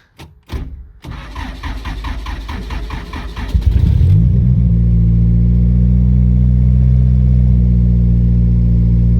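A Pontiac Fiero engine cranks with rapid, rhythmic starter turns, catches, and settles into a loud, steady, close-up idle hum.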